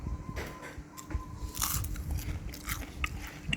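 Crispy air-fried churros, crunchy outside and soft inside, are bitten into and chewed close to the mic, giving a loud crunch followed by several crackly chews.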